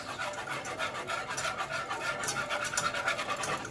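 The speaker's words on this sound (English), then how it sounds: "You're going to need a whisk. Just whisk that first." A wire whisk beats pumpkin creamer ingredients in a bowl with quick, rhythmic scraping strokes, close and fairly quiet, with no talking.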